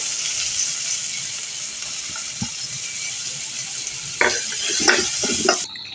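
Four dry chilies frying in leftover fish-frying oil, a steady broadband sizzle with scattered clinks and stirring scrapes growing busier toward the end, close and moderately loud with no talk.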